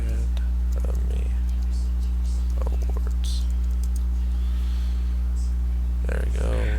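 Keys tapped on a computer keyboard in quick, light bursts during an online search, sitting under a steady low hum with brief soft speech around them.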